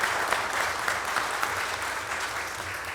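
A council meeting crowd gives a round of applause, dense and sustained throughout at a steady, fairly loud level.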